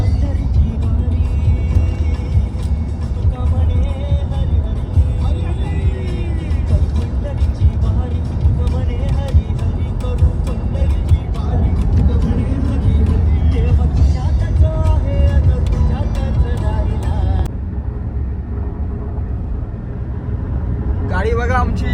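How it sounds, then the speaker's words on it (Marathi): A car drives along the road with a steady, loud engine and road rumble from inside, while people talk over it almost throughout until the noise drops near the end. "गाडी बघा आमची मंडळी आपोआप चालते"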